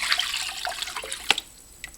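Roughly a liter of water poured into a pot while making Bulgarian-style Iwashi herring, a splashing, gurgling stream close by with a few sharper drips and splashes near the end.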